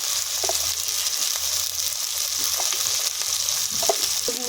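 Onion fried with ginger, garlic and turmeric in a pan for a duck curry gives a steady, close sizzle with a few soft scrapes and clinks of stirring, and no talking.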